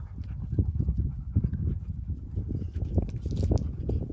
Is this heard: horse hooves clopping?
yes